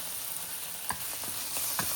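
Flat noodles coated in soy sauce being stir-fried in a pan for a vegan dish, with a steady sizzle and a few scraping stirs of the spatula, close and fairly quiet.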